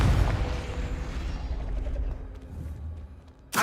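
A Confringo explosive spell goes off in Hogwarts Legacy: a loud, deep rumbling blast that slowly fades over a few seconds, then a second sharp burst cuts in at the very end.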